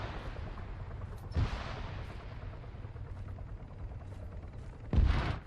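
Verona rockets fire in a video game as two deep, booming launches about three and a half seconds apart, heavy and low over a steady rumbling backdrop.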